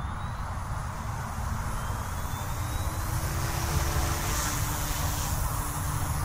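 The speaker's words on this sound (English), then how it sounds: "let's take off my throttle hold and spool her up" OMP M2 EVO RC helicopter spooling up outdoors, a steady close whine and rotor drone that builds slightly as the blades come up to speed, heard on its own.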